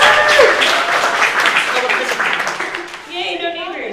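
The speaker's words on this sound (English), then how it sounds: "And you can clap because we don't have neighbors over there." An audience at a City College of New York panel claps for a panelist, a dense burst of applause that tapers off while a voice speaks over it.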